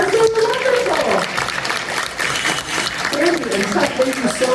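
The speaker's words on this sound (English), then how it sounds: "let's give them a huge round of applause" Applause for divers at an aquarium show, a spread-out crowd clapping under a reverberant hall wash, with a voice talking over part of it.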